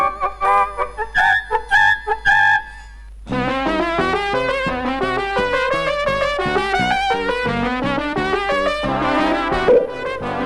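A rooster crows in a 1990 Ukrainian animated cartoon about three idle gentlemen keeping house, the call set against a busy, continuous bed of orchestral music after a short string of staccato notes.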